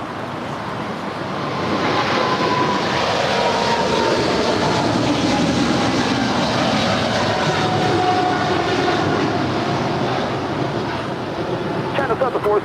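A China Southern Cargo Boeing 777 freighter rolls for takeoff at LAX, its jet engines swelling into a loud, sustained roar that holds steady over the runway.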